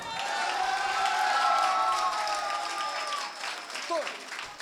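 Applause from the audience at a Hindi poetry gathering, a kavi sammelan: broad, busy clapping that swells early and then slowly thins, with a sustained tone or voice running over the top.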